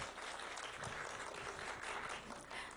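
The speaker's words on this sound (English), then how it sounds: "I'd like to ask the audience to please give a round of applause again." Audience applause after a performance by elementary school students at a city conference, a dense, steady wash of many hands clapping that fills the whole stretch at an even level without pause.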